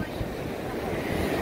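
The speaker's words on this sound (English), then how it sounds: "the irony is if you look at these waves crashing up here on the shore" Rough, stormy surf from a tropical storm crashing onto the Gulf Coast shore at Dauphin Island, Alabama, heard as a steady loud roar of breaking waves mixed with gusty wind buffeting the microphone.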